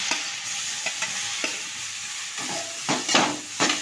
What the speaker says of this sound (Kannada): ಈ ಸಾಸಿವೆ ಎಲ್ಲ ಚಟಪಟ ಅಂದಮೇಲೆ ಸ್ವಲ್ಪ ಎಣ್ಣೆ ಒಳಗೆ ಖಾರ ಹಾಕ್ಕೊಂಡಿನಿ ರೀ.